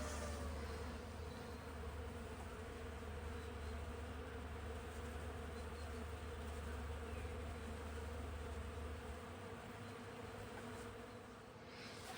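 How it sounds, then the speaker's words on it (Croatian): Bees at work on a village farm make a continuous, even buzzing hum, close and steady, with a low drone underneath and no voices. "Kako rade pčele."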